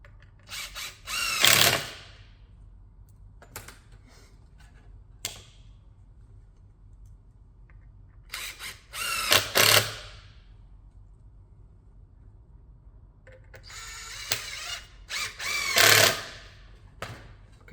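A power driver sends 30mm screws into pre-tooled holes of a Milwaukee Packout racking shelf in several short whirring bursts, each a second or two long, separated by quiet gaps with faint handling clicks.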